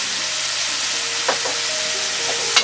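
Chayote and ginger sizzle steadily in a hot pan, with a couple of brief stirring scrapes and clinks breaking through the constant frying hiss.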